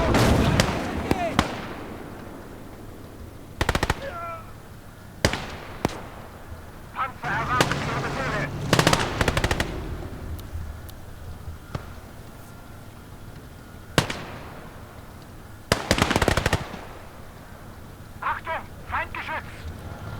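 Bursts of World War II machine gun fire rattle through a battle in the real-time strategy game Gates of Hell: Downfall, mixed with sharp cannon and artillery blasts at irregular intervals, with game voices heard between volleys.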